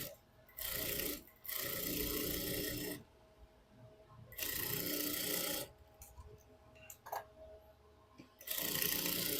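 A sewing machine stitches a blouse in close, loud bursts of a few seconds each, whirring then stopping, with quiet handling between runs and no speech.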